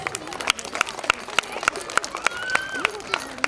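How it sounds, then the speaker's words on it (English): Preschool annual day audience applauding a child winner, sharp irregular claps from a modest crowd filling the room, with a voice briefly speaking over the clapping. "Give him a big round of applause"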